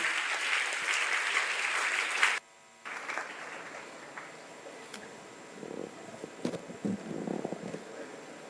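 A crowd at a World AIDS Day government event in Indore applauds loudly, thick clapping for a couple of seconds before cutting out abruptly, then a quieter ragged patter with scattered claps and shuffles.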